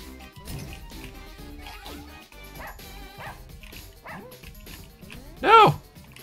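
Cartoon dog barks and yips in the Russian Subway Dogs video game, a few short yelps over busy game music, with one loud bark standing out near the end.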